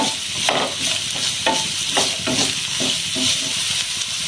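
Chopped onion sautéing with sliced bitter gourd in a pan, a steady bright sizzle broken by repeated scraping strokes of a spatula stirring the mix, close and fairly loud with no one talking.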